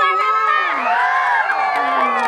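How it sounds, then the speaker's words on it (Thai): The Team Star cheering squad shouts and cheers together in a loud, sustained chorus of many voices at the closing ceremony of a Thai kite festival in Yala province. "ค่ะเองก็เสียงกองเชียร์ทีมสตาร์ขอเสียงมาเลยค่ะ"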